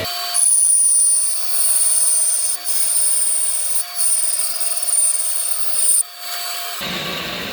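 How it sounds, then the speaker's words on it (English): A bandsaw cuts through wood for a replica K6 telephone box. A loud, steady whine with a high tonal edge holds throughout, dipping briefly several times as the blade works, then the cutting stops abruptly near the end. "I'm lucky enough to have a bandsaw to do it, which makes life slightly easier"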